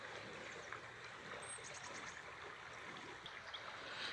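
Fast-running, rippling stream water flowing steadily, a continuous soft rushing wash with faint trickling detail and no voices.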